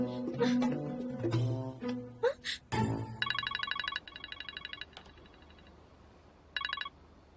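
A telephone rings partway through a call, its repeated electronic trills near and clear after a stretch of raised voices, then fading out and briefly returning.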